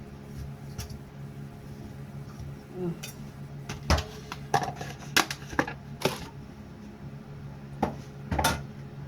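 Som tam seasonings pounded in a mortar with a pestle, giving a series of sharp, irregular knocks and clacks that grow louder midway, over a low steady background hum.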